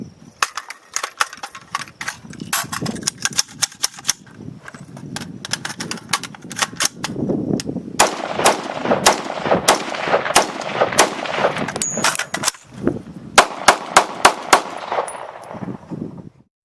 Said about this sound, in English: We're here shooting at the public range